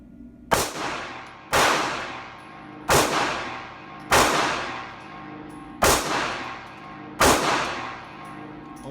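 Six sharp pistol shots from a Ruger LCP 2 firing Remington 95 grain .380 ball rounds, loud and close, spaced about a second apart, each with a ringing decay.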